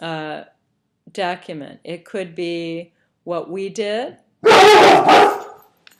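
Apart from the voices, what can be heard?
dog barking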